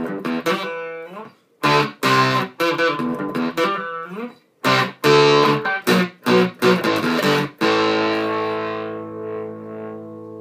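A custom Jem-inspired electric guitar on the bridge pickup with full distortion from its clipping circuit plays choppy riffs and short bursts of notes, then lets a final chord ring out and decay, with no talking.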